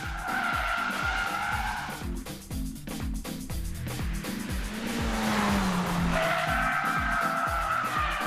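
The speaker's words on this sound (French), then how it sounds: "Cette Lancer est une vraie école de drift à elle toute seule, ce qui n'est pas banal pour une intégrale" A Mitsubishi Lancer Evo 10 drifts hard, its tires squealing in long sustained skids over a loud, revving engine that rises and falls close by.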